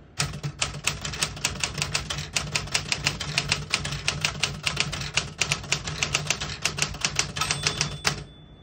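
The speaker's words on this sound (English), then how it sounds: "Beautiful typing machine" Rapid, steady clacking of a 1964 Smith-Corona Galaxie II portable typewriter's keys close up, dozens of crisp strikes in a quick rhythm, ending with a small bell-like ding.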